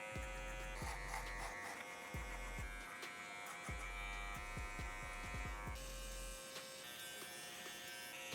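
An electric trimmer buzzes close by as it cleans peach fuzz from the sides of the head during a mid drop fade haircut, a steady whining hum with brief interruptions and clicks, no talk.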